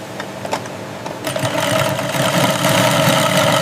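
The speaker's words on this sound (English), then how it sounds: "The stitching has to be clean, strong, and perfectly aligned." A machine stitching white leather bag panels in a luxury leather bag factory, a steady mechanical whirring hum that builds and holds with rapid rhythmic ticking, close and loud, no voices.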